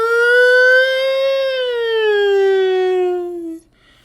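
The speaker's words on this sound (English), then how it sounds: "Throughout this time, the air raid siren was not uncommon." A loud, wailing air raid siren whose pitch rises slightly and then slowly falls before cutting off abruptly.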